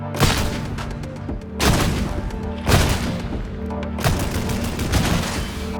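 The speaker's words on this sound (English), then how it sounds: "let me quickly demonstrate how this gun is depicted in Dark Tide" Bolter gunfire from the video game Warhammer 40,000: Darktide, heavy booming bursts of rapid shots in four loud volleys with brief gaps between them, each ending in a rumbling echo.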